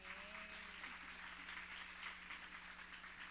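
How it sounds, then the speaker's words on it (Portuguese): A church congregation at a family service applauds together, producing a continuous, fairly faint patter of clapping over a low steady hum, with no voices over it. "gostaria que vocês a recebessem mais uma vez com a salva de palmas"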